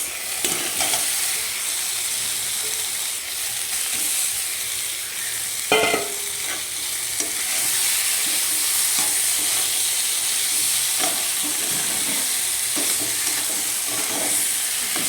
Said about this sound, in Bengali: সুন্দর করে নেড়ে চেড়ে দেখো কষিয়ে নিচ্ছি মাছ দিয়ে পোস্ত শস্য দিয়ে